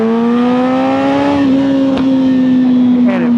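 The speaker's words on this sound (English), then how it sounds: "I got this Shorty Brock's exhaust on here, and this thing is a beast. It's loud." Loud, throaty motorcycle exhaust from a short Brock's aftermarket exhaust rumbling up close, the engine revving up slightly and holding a deep, steady drone.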